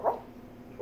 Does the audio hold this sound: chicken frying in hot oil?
no